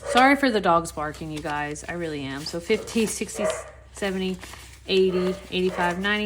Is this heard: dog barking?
yes